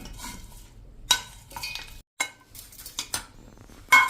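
Roasted masala being tipped into a mixer jar in a home kitchen, heard as a few sharp clinks and clatters of spoon and steel jar with short scraping stirs between them, close by and with no talk.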